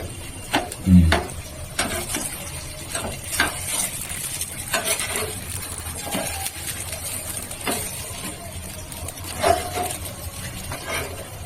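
Food frying in a pan for peas kalia (koraishutir kalia) is stirred and turned: a soft sizzle under repeated scraping and clinking strokes of a spatula against the pan, with no talking.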